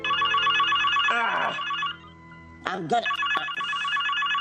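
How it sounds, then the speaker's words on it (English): A telephone bell rings loudly in a drama, a sustained ringing that briefly cuts out as someone speaks over it, then resumes steadily. "Oh, damn phone."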